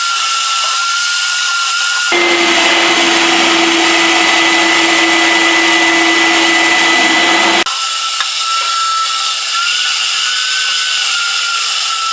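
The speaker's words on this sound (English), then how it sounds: "what I'm going to do is vacuum the water out of this first." A wet-dry vacuum roars loudly, and for several seconds in the middle its tone shifts to a harsher gurgling suction as water is drawn up out of a toilet.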